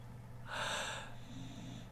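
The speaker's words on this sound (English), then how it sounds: "There is a dog asleep snoring in the dog cam." A dog asleep on a home pet camera snores once, a close rasping snort that swells and fades over about a second against a low background hum.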